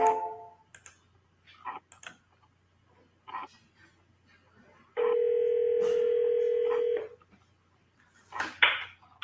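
A phone call to a seller being redialed: a few faint clicks, then a single steady electronic ringing tone that lasts about two seconds, followed by more soft handling clicks.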